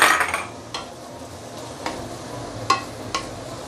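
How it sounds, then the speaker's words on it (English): Jasmine rice is stir-fried in pork lard and oil over medium-low heat, with a soft background sizzle broken by a few sharp scrapes and clinks of a utensil against the pan. "Use medium-low fire to stir fry it."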